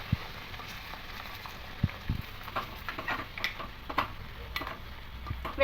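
A spatula stirs a coconut and snake gourd mixture with sugar in a pan, giving soft, scattered scrapes and taps over a faint low sizzle. The sound is quiet and close, with irregular light clicks.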